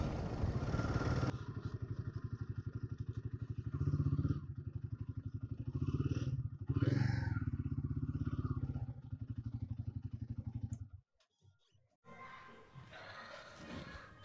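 A motorcycle engine idles with a steady, close, throbbing rumble and some clatter under a shed at a parking area near Hundru Falls in Jharkhand, then cuts off near the end, leaving quieter ambient noise.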